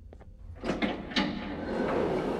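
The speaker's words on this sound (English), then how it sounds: "Alright, did open this door here." A door in the horror game Garten of Banban 2 opening after a button press: a couple of light clicks, then a heavy mechanical slide with bumps that settles into a steady rumbling hiss, close and fairly loud.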